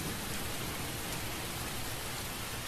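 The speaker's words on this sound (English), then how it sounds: "He's not used to rain though. Rain is new to him." Rain in a video game falls as a soft, even hiss, steady and quiet throughout with no breaks or voices.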